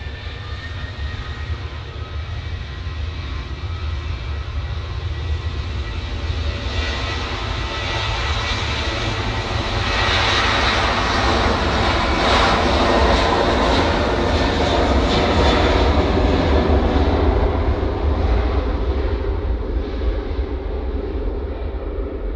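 Engines of flight BY668 at Manchester Airport roar loudly and continuously, the rumble swelling toward the middle as the aircraft passes close, then easing slightly.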